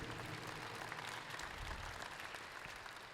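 Applause from the crowd for donors at a charity auction gala, steady dense clapping throughout, fairly distant and quiet, with no talk over it.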